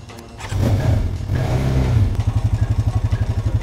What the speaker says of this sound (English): I have an ATV with a key in it.